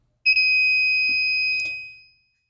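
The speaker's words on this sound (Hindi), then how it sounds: "जैसे ही आप एक खास एंगल से आगे झुकेंगे ये बीप करना स्टार्ट कर देगी।" A driver's anti-sleep alarm device gives one sustained, steady high-pitched electronic beep, loud and close. It runs for about two seconds before fading out, with a faint low hum beneath.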